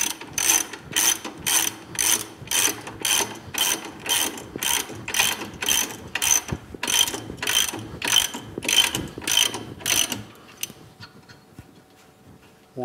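A ratchet wrench clicks in quick, regular bursts as bolts are cinched tight on a workbench, about a dozen close, crisp strokes before it falls quiet.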